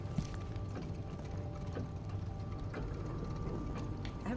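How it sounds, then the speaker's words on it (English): Muffled, rhythmic footsteps in the horror game Song of Horror, evenly spaced soft knocks over a dense low ambient rumble, faint and steady throughout. "Really sounds like footsteps."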